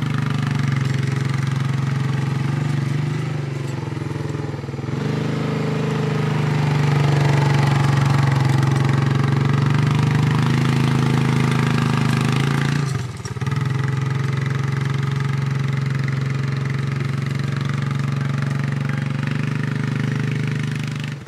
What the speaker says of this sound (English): you have to use a 4-wheeler and a harrow to do this with